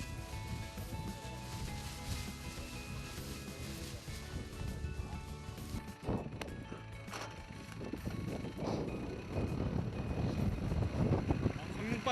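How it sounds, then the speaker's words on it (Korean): Strong wind gusts across an open cabbage field in Gangneung during the winter harvest, a steady loud rush buffeting the microphone throughout, with heavier low rumbling gusts building toward the end. "강릉바람이 엄청 세네요"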